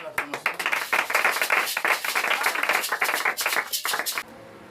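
A church congregation claps in acclamation during a Sunday service on a fasting day, a quick run of loud, close claps and taps for about four seconds before cutting off abruptly into quiet room tone.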